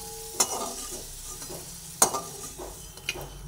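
Potatoes fry softly in oil while a spoon stirs them, with a few sharp scrapes and clinks against the pan over a low, steady sizzle.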